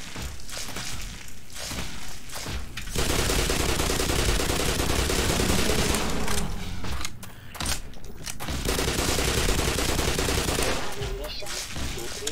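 Sustained automatic gunfire and explosions in the Black Mesa game, Gonarch's Lair fight, with dense bursts broken by short pauses, loud and close throughout.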